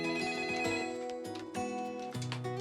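A telephone rings in loud, repeated bursts with a bright, harmonic bell-like tone, in a steady ringing rhythm. No voices come in over it.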